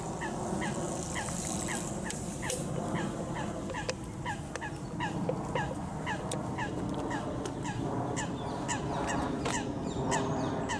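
A group of young geese calling outdoors, repeated short honks and squawks overlapping at a moderate distance over a steady background hum, with no voices.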